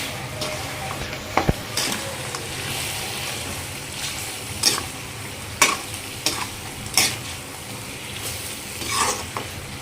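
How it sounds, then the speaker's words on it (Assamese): Chicken with a leafy green being stirred in a kadai, with intermittent scraping strokes over a constant frying hiss and a noisy, rumbling background, no talking. "এতিয়া লৰাই দিম।"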